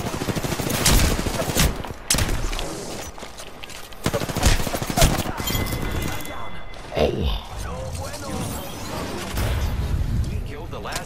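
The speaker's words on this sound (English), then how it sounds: "The enemies are shooting at me." Enemies firing guns in a video game battle, bursts of sharp shots and rattling automatic fire at varying distance, mixed with impacts and effects while a person talks over it.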